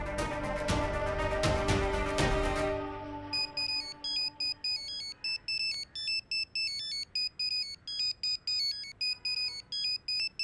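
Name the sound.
mobile phone ringtone, incoming call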